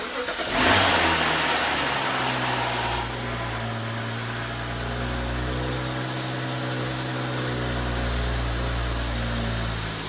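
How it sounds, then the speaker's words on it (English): A BMW N55 engine cranks and starts up after a rod bearing replacement, then settles into a steady, fairly close idle with slight shifts in pitch, heard without talking. "Now we're ready to go ahead and start it up."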